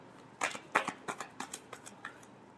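Tarot cards being shuffled close by, a quick run of about a dozen crisp papery riffles and flicks that start strong and get softer, alone without speech.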